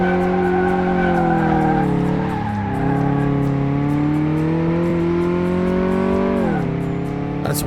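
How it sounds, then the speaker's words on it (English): A powerful Sprinter tow truck in Car Mechanic Simulator 2018 drifts and fishtails with a sustained engine drone, long tire squeals and the pitch dipping and rising as it slides, loud and close throughout. "Can we fishtail it? Oh, we can drift it a little bit."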